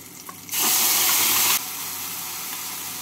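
Spice paste hitting hot oil already tempered with two green chilies and nigella seeds, bursting into a loud, bright sizzle for about a second before settling into a steady, softer hiss while cooking a Bengali pabda fish and potato curry.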